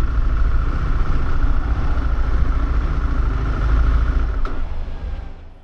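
CFMOTO Ibex 800T adventure motorcycle engine rumbling steadily at low speed as it pulls in to refuel on a Southwestern US ride, a continuous close drone that tapers off at the end.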